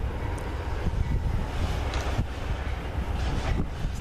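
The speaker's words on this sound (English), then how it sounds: "Oh, it's the Amtrak, buddy." An eastbound Amtrak train rushes past nearby in a dense, continuous rumble with rattling wheel noise and some wind buffeting the microphone, with no talking.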